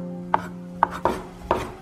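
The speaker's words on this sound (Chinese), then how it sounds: "准备洗净的豆皮切丝" A knife chops washed tofu skin into thin shreds on a board. Four crisp, separate cuts land at uneven intervals over a steady low hum, with no talk.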